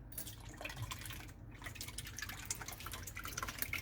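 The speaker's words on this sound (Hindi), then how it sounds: "ये पूरा एक बड़ा कैन मैंने इवेपोरेटेड मिल्क का डाल दिया है इसके अंदर।" Evaporated milk poured from a large can into a bowl for a caramel egg pudding flan, a soft, close, dripping liquid trickle that continues steadily and fairly quietly.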